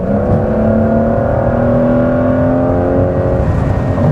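A 2025 Porsche 911 Carrera GTS accelerates to pass a slower car, its engine a steady, close, loud drone with a slowly rising pitch that holds throughout without talk.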